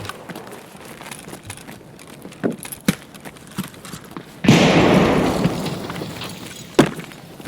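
A grenade explodes in the video game Escape from Tarkov with a sudden loud, broad blast that decays over a couple of seconds, preceded by scattered footsteps and gunfire clicks and followed by a single thump.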